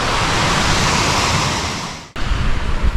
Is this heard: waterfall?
yes